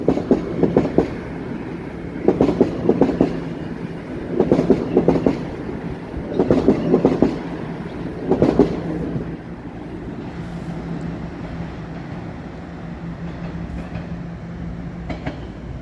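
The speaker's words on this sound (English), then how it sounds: "The trains have to go really slowly through here while they're doing maintenance on the tracks." A train rolls slowly over tracks under maintenance in Toronto, its wheels clacking in regular paired bursts, then fading to a low steady rumble.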